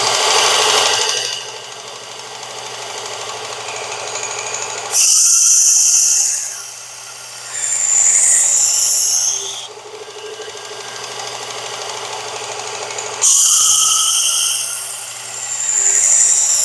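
A Work Sharp powered sharpener hones the edge of a Glock field knife in several long grinding passes, a steady motor whine with a rasping, hissing edge that swells and eases as the blade moves, close and loud.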